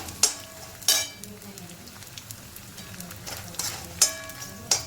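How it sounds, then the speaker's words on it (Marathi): Edible gum (dink) frying in hot oil in a pan, a steady soft sizzle broken by a few sharp stirring clinks and scrapes, close by with no talk. "असा मी आता थोडा डिंक तळून घेते."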